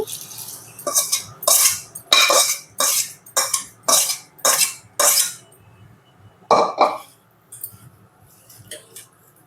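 A spoon scrapes and clinks repeatedly against a bowl, mixing amla pickle with oil tempering, in a steady run of short strokes, then pauses and resumes briefly; no talking.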